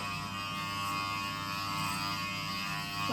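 Electric hair clippers buzz steadily and up close while cutting a one-inch buzz cut, a continuous motor drone with slight shifts in pitch as the blades move across the head.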